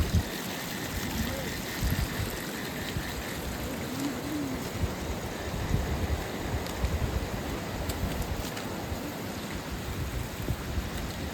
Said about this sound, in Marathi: पावसामुळे आमच्या गावाचा ओढा पूर्णपणे भरलेला आहे